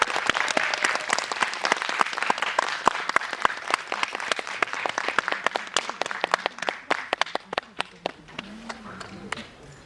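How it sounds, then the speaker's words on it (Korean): A theater audience at a Korean film screening's guest talk for Harbin bursts into sustained, dense applause welcoming the directors and an actor, the clapping thinning into scattered individual claps toward the end. "큰 박수로 받아주세요."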